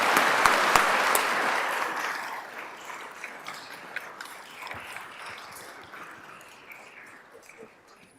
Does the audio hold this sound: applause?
yes